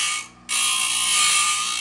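A bench grinder whines high and steady against the edge of a brass ring, cutting out briefly for a split second before the shrill grinding resumes.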